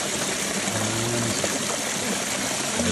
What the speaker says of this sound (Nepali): स्वच्छ पिउने पानी पर्दो रहेछ यहाँ